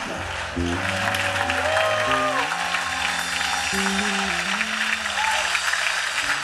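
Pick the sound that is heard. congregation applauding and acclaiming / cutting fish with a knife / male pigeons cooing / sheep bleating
congregation applauding and acclaiming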